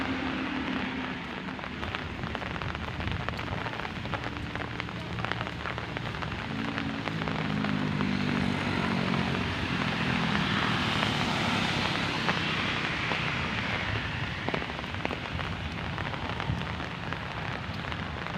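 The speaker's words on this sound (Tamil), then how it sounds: "கொஞ்சமாவது மழை விட்டால் நல்லாயிருக்கும்" Heavy rain pours steadily over a village in a dense, continuous hiss that lasts throughout, with a low engine-like drone rising and fading in the background.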